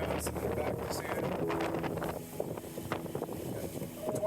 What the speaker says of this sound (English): 21 knots of wind on the nose right now, which is great. Motoring into this, trying to make some time